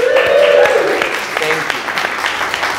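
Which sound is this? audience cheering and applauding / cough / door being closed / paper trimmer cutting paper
audience cheering and applauding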